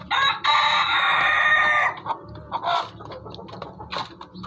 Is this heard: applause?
no